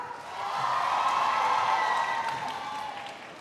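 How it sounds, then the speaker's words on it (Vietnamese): A crowd at a street dance competition final applauds a dance group, a steady dense wash of clapping that swells and holds, with faint cheering mixed in. "Một tràng pháo tay nữa cho Hà Nội Is Girls được không ạ?"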